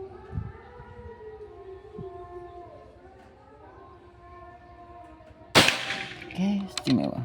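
A single sharp, close Pajero Gun Gen 5 air rifle shot cracks out near the end, followed by brief rustling and handling noise after a stretch of quiet background hum.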